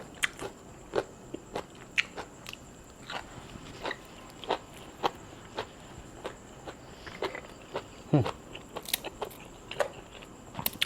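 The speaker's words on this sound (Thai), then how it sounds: "แต่ทอดเนี่ยมันจะกรอบแห้งครับ" Dried fried fish is eaten up close, with loud crisp crunching bites recurring roughly every half second to second over a quiet background, no talk.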